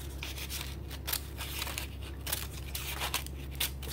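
Scissors snipping along a line through a paper Mobius strip, a run of close, crisp cutting and crinkling sounds in uneven bursts over a steady low background hum.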